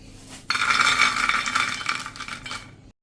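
Roasted salted peanuts pour into a vessel in one continuous rattling shower lasting about two and a half seconds, close and fairly loud, then stop abruptly.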